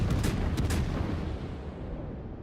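Heavy naval guns fire from warships in World of Warships, with a few loud booming blasts early on that roll into a rumbling, fading tail.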